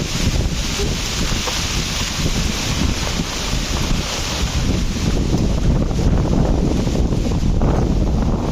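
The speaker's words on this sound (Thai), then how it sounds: "ลมมันพัดแรงมากๆเลย" Strong wind roars through a forest during a heavy rainstorm, a loud, continuous buffeting rush that fills the whole clip with no voices.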